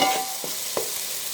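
Masala for a mutton gravy curry sizzles and fries in a pan, with a few soft stirring scrapes over a steady, close hiss and no talking.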